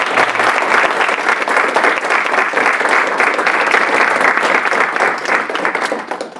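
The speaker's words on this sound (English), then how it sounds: "So let's have another final round of applause for all 5 panelists." Steady, dense applause from a live audience fills the room as a panel Q&A on alternative proteins wraps up, loud and continuous for several seconds with no voices over it.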